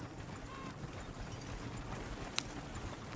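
Horse hooves clip-clop softly and steadily in a Red Dead Redemption 2 game scene, faint and distant under low ambient background, with one brief sharp click near the end.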